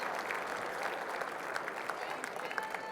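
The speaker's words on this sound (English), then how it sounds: "let's give the wait staff a big round of applause" Gala guests applaud the wait staff at an awards reception, a steady patter of many hands clapping at moderate volume with some chatter mixed in.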